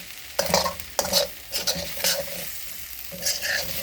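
Purple jasmine rice and vegetables sizzling in a hot pan, a bright steady fry broken by several close scraping and tossing strokes of a utensil.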